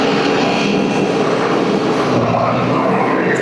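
A new Mahindra tractor engine runs at speed close by, making a loud, steady, unbroken drone with a broad rumble and no gaps, and nobody talks over it.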